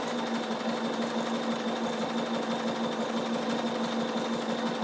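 A Bernina embroidery machine stitching circles over mylar, humming with a continuous, steady, fast-stitching whir and a constant pitched drone, close and alone.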